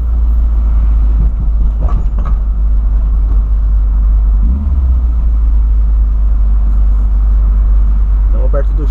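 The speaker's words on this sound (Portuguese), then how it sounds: "Vamos acelerar, né? Que a gente é acostumado a acelerar" VW Voyage car engine accelerating on a city street, a loud low rumble and droning hum from inside the cabin, with someone talking over it.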